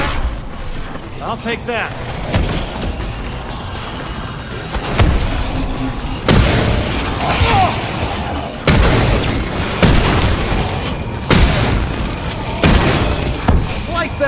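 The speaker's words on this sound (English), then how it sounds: "Shoot your gun." Gunfire in the Call of Duty Advanced Warfare Zombies mode on the Carrier map, with repeated heavy shots and booms at fairly regular intervals over dense game noise and music, while someone speaks briefly.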